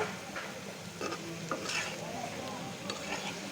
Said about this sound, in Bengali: গরম তেলে ভেজে নিচ্ছি, মুচমুচে করে ভেজে নেব।